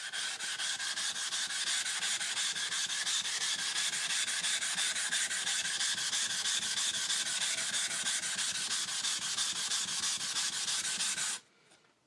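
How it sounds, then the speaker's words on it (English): A sharpening stone is flattened with a continuous back-and-forth grinding rub, fast rhythmic strokes close and loud for about eleven seconds before stopping suddenly into quiet. "I'll flatten the sharpening stone first for next use."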